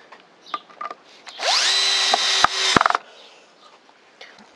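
A Bosch PSB 1800 Li-2 cordless drill drives a screw in one steady whining run of about a second and a half, ending in a few sharp clicking jolts, with faint handling knocks before and after.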